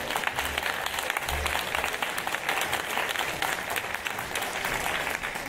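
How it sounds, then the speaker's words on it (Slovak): Audience at a Slovak podcast awards ceremony applauding to welcome a presenter on stage, a steady, full burst of clapping from a sizeable room lasting several seconds. "Privítajme ho potleskom."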